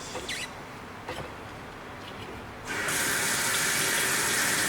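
Household water shutoff valves reopened, sending a steady broadband rush of running water through the pipes and faucet after a few faint clicks and handling noises.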